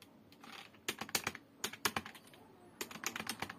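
Quick bursts of clicking keys on a computer keyboard as a username is typed, close and fairly quiet, in irregular clusters with short pauses.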